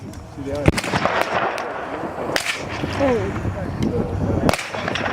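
Civil War reenactment musket volleys from Federal infantry in formation, heard as several sharp cracks at uneven intervals, with louder reports near the start, middle and end over continuous crowd chatter and voices.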